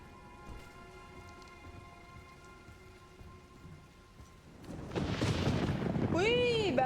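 Steady rainfall with a low rumble of thunder building in the Resident Evil Requiem video game, a constant hiss under faint tonal game ambience that swells louder midway, with a voice briefly heard near the end.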